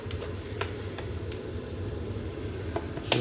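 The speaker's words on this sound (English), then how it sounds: "I'm just going to add a bit more oil into the onions." Onions sizzling in oil in a pan for an Iraqi white bean and lamb stew, giving a continuous hissing fry with a few sharp pops and clicks over a low background hum.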